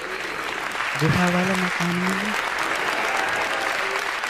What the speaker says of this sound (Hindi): बोलना पड़ेगा, ताली बजानी पड़ेगी